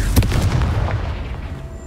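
The Confringo fire spell in the video game Hogwarts Legacy bursts into a heavy, booming blast with a sharp attack and a long rumbling low-end tail that slowly decays.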